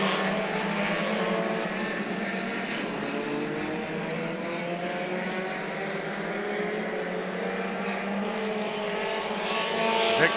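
Mini Stock race cars circle Orange Show Speedway in a main event with lapped traffic, a dense, steady drone of several engines blending into one loud, continuous roar.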